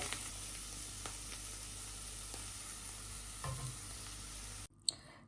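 Cabbage frying with urad dal dumplings, a steady close sizzle with occasional stirring scrapes that cuts off abruptly near the end, leaving near silence and one brief knock.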